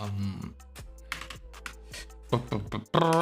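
Someone types on a computer keyboard, with a run of close, irregular key clicks over a quiet tonal background.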